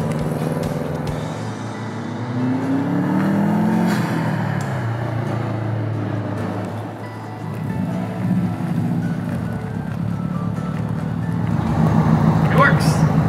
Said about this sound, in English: Now for a quick test drive to make sure they work.